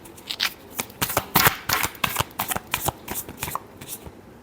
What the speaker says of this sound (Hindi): लास्ट शफल, काफ़ी सारे कार्ड्स हैं, एक शफल और करेंगे